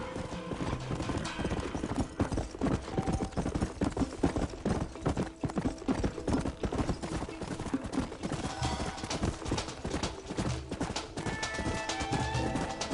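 Rapid hoofbeats of several horses galloping pound steadily and close, with clattering and a brief whinny amid busy game sound from Red Dead Redemption.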